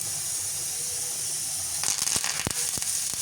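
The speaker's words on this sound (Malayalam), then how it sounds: "കുറച്ച് വെളിച്ചെണ്ണ ചൂടായി വന്നപ്പോൾ അതിലേക്ക് കുറച്ച് കടുകും കുറച്ച് വറ്റൽമുളകും കുറച്ച് കറിവേപ്പിലയും ഇട്ട് ഒന്ന് വറുത്തെടുത്തു" Mustard seeds, dried red chillies and curry leaves hit hot coconut oil, giving a steady hiss that breaks into a run of sharp, close crackles and pops in the last second and a half.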